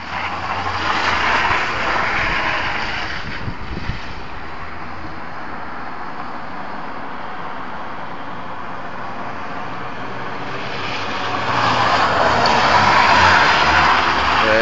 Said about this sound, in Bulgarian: Много хубав дрифт беше това.